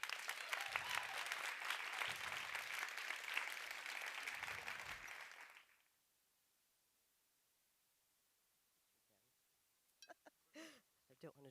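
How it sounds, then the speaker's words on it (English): Audience at a women's investment summit applauding to welcome a speaker to the stage, a loud dense wash of clapping that fades out around six seconds, leaving silence and a few faint sounds near the end. "Give a warm applause to welcome Gita Schmidt"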